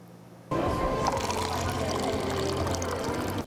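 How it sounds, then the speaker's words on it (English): Coffee pours for guests in a steady, continuous liquid stream that starts abruptly and runs for about three seconds, close and clear, with faint voices behind it. "Pouring coffee and serving guests seem to be simple actions"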